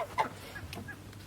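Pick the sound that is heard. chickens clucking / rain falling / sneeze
chickens clucking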